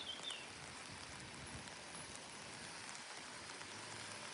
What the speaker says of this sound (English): I just wish it wasn't raining